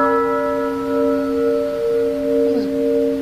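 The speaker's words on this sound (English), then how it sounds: "They're 18th century bells." A restored 18th-century carillon bell rings in a tuning room, giving one sustained, resonant tone with clear steady overtones that slowly decays, alone and close.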